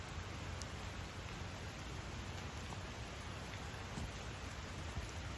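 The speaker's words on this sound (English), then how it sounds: "if you're in a garden and it's pouring down with rain" Steady rain pouring in a garden, water dripping off foliage and bark; a dense, even hiss of rainfall with soft drips, continuous throughout and no voices.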